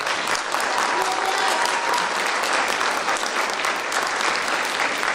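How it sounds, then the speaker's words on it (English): Loud, sustained applause fills the hall at an orchestra's Halloween concert, a dense, even roar of many hands clapping close by with no gaps. "So could you give them another round of applause?"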